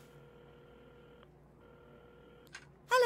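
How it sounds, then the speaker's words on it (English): Phone dialing tones in the video game Assemble with Care, played in a café: a steady tone broken by a short gap, then a few quick dial beeps and a louder burst at the end. "at the counter, Carmen had started dialing the phone."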